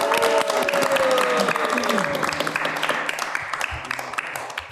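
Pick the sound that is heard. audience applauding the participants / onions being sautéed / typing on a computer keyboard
audience applauding the participants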